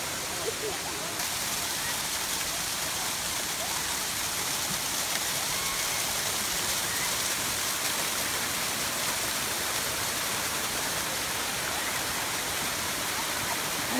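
The Erzincan waterfall gives a constant broadband rush of falling water, dense and unbroken, heard close and steady throughout.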